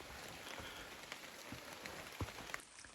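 Rain patters softly on forest leaves along the Appalachian Trail in Massachusetts, a steady, faint hiss broken by scattered individual drips close by.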